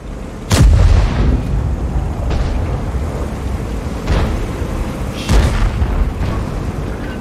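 Tank cannon shots in World of Tanks, with three or four heavy booming blasts spread across the clip over a constant low battle rumble, the first one loudest and close.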